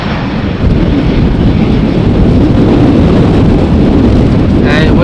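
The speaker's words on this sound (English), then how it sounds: "this is an Aer Lingus Airbus, most likely inbound from Dublin on Cork" An Aer Lingus Airbus airliner roars past at close range while landing at Amsterdam Schiphol in gusty crosswind, a loud, steady, broadband jet rumble with heavy wind buffeting on the microphone.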